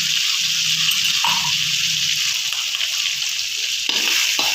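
Steady hissing sizzle of blood clams and fried coconut stir-frying in a pan, with occasional scraping stirs, close and continuous.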